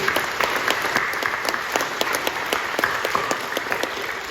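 A church congregation at Incheon Full Gospel Church applauds during a worship service, dense steady clapping from many people filling the hall, loud and continuous with crisp individual claps standing out.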